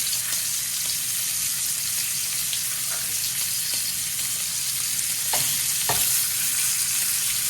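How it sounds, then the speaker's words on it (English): Pork chops browning in a frying pan before going into a slow cooker, giving a constant close sizzle and frying hiss, with a few sharp scrapes or clicks near the end and no voices. "our goal is just to brown the pork chops, not cook them"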